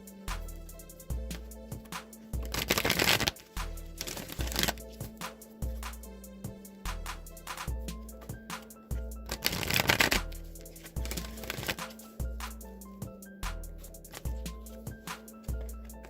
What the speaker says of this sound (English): let me just give the wisdom of the Oracle deck a few shuffles